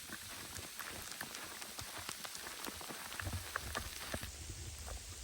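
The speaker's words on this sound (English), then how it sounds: "You can really hear that sleet-like snow coming down on the leaves of these little bushes over here." Steady patter of sleet-like snow striking the leaves of small bushes nearby in a winter state park, a dense crackling hiss with scattered sharper ticks, no voices.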